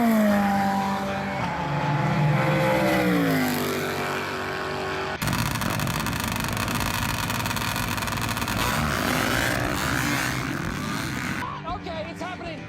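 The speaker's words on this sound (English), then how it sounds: "Sprint cars are like sitting on an engine." Sprint car racing engines roar loud and close, a dense revving drone with pitch sweeping up and down, then shifting to a harsher, rougher engine blare for the rest of the clip.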